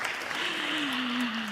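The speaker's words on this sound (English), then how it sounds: "So let's give a round of applause" A short burst of steady crowd applause, dense and even throughout, with a faint low tone running underneath.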